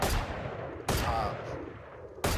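Three single, heavy rifle shots from the Guardian in the tactical shooter Valorant, each a sharp loud crack with a decaying tail, spaced roughly a second apart.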